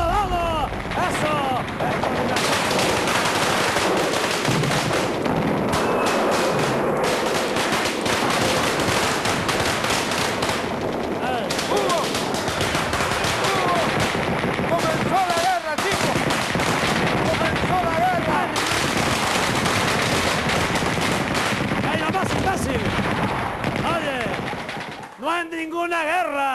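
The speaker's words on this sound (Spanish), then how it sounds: "¡Que empiecen los disparos!" Rapid bursts of gunfire crackle continuously, dense and chaotic like a firefight, with shouting voices mixed in throughout.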